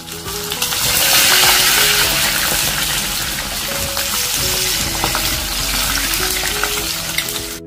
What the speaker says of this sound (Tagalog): Prito na po natin yan.